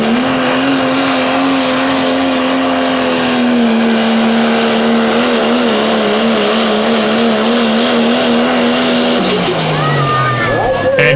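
Pro stock diesel pulling truck Gertrude dragging a sled down a pulling track while sliding around, a loud, sustained roaring engine whose pitch wavers and drops near the end, under an announcer's commentary.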